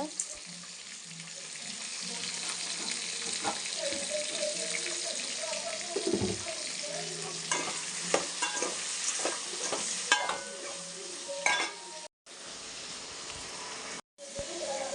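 Tomatoes salted and sautéing in a pan for a coconut-free spicy chutney hiss with a steady sizzle, broken by scraping stirs of the spoon and a couple of brief pauses, close and moderately quiet.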